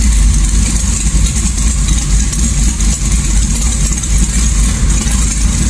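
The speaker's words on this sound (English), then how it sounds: "I want it idling the best in gear" An LS1 V8 engine idling in gear, a steady loud low rumble with an even, slightly lumpy pulse, close up and continuous with no talk.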